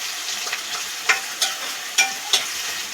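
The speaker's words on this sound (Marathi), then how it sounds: "आणि आता हा कांदा मी फोडणीमध्ये टाकत आहे." Roasted onion paste frying in hot tempering oil, a dense close sizzle with several sharp crackles and spoon scrapes, loud and steady, with no voices.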